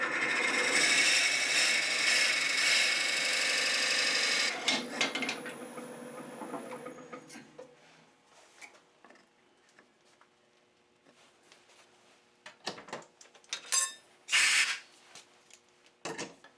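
A wooden pepper mill blank being drilled, a loud, steady grinding rasp for the first few seconds that cuts off, then scattered knocks, scrapes and handling noises with quiet gaps between.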